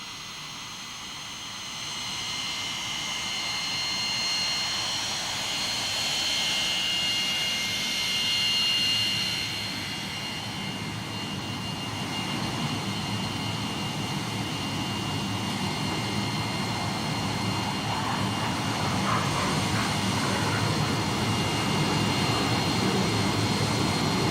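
Steady roar of an Israeli military jet engine, likely a modernized A-4 Skyhawk with an extended tailpipe, a continuous broadband rumble with a high whine that swells slightly and holds without speech.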